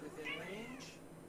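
A cat lets out a single drawn-out meow that rises and then falls. It sounds fairly close but quiet, over faint room noise.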